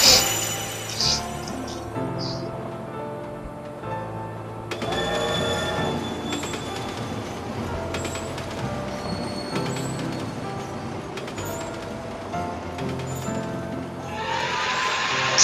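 A moving train in the video game Kingdom Hearts 2: a steady rolling rumble with metallic clatter and occasional high wheel squeals, swelling louder toward the end.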